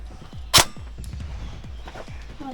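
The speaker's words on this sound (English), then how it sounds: "I'm gonna shoot him." A single sharp rifle shot rings out in a shooter video game, from a weapon with sniper-rifle accuracy. The loud, brief crack stands alone over low background game ambience.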